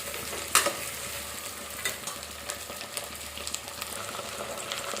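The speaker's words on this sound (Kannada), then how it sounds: "ಇವಾಗ ಬೀನ್ಸ್ ಹಾಕ್ತಾ ಇದ್ದೀನಿ. ಇವಷ್ಟನ್ನು ಚೆನ್ನಾಗಿ ಫ್ರೈ ಮಾಡ್ಕೋಬೇಕು." Green beans frying in a pan for pulao, a steady close sizzle broken by repeated scraping and clanking as a spatula stirs them, no voices.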